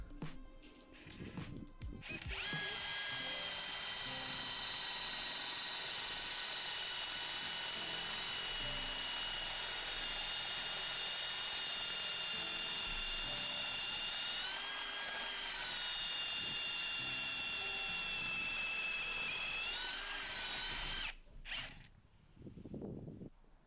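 A Bosch AdvancedImpact 18 cordless combi drill bores into wood with a 20mm spade bit, a loud steady high-pitched whine running about twenty seconds with slight pitch dips as it bites, starting and stopping abruptly.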